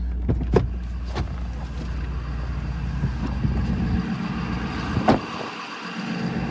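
A 2023 Ford F250 XL with a Powerstroke diesel engine idles steadily with a low rumbling drone beneath gusting wind noise, punctuated by a few sharp clicks and handling knocks nearby.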